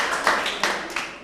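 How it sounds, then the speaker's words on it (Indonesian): A few separate, fairly close hand claps at a children's character-education event, three distinct claps in just over a second with no talk over them. "Tepuk tangan sekali lagi untuk Arjuna ini ya."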